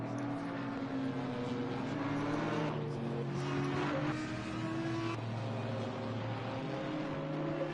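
GT4 race cars on the formation lap at Silverstone in a racing video game, a pack of fourteen engines droning and shifting together at steady volume, with sustained tonal hum throughout.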